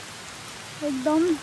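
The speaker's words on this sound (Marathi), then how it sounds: "मस्त आणि जोरदार पाऊस." Heavy rain pours down in a Sahyadri forest on the Panhala to Pavankhind trek, a steady dense hiss that fills the whole clip, with a voice speaking briefly over it near the end.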